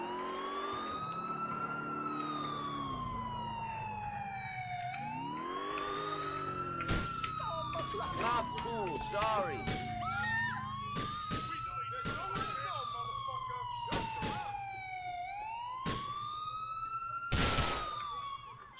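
Police car sirens in Grand Theft Auto IV wail in long rising and falling sweeps, loud and close, mixed with sharp gunfire-like cracks, engine noise and occasional talk.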